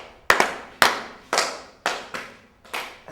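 A group passes single claps quickly around a circle, each sharp clap ringing out alone at a brisk, slightly uneven pace, about six or seven in three seconds, close and clear in a room with no talking.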